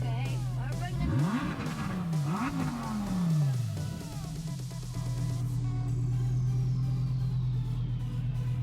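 A Lamborghini Huracan sports car engine revs sharply twice near the start, rising and falling in pitch, then settles into a steady, loud idle drone heard close by at a dealership car event.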